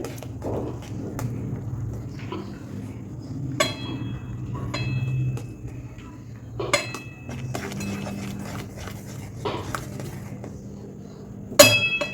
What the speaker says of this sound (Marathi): उकळी आलेल्या पाण्यामध्ये थोडंसं थोडंसं टाकून आपण मिक्स करत राहायचं आहे